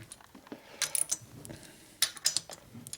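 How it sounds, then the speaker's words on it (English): A torque wrench ratchets as a Harley Evolution engine head bolt on a 2000 FXR 80ci motor is tightened, giving sharp metallic clicks in two short bursts, close and quiet between them. "Now when you torque the head bolt down, it will go in further."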